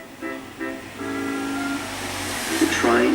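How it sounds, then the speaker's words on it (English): A 1930 train arrives at Whitwell, a country station for Knighton and Blackgang, with short whistle-like blasts, then a longer tone over a steady rolling rumble. "The train is arriving in 1930."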